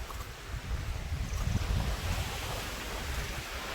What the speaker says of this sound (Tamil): இந்திய பெருங்கடல் தானே இருக்குது.